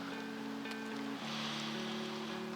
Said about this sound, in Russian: Ну а пока вот весенний дождь.